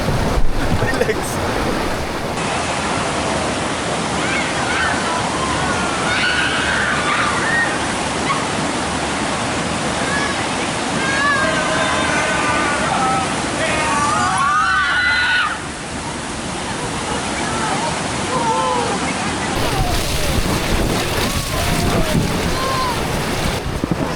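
Rafting on a white-water river in Ubud, Bali: a continuous loud roar of rushing rapids and splashing with wind buffeting the microphone, and shouts and voices of rafters scattered through it.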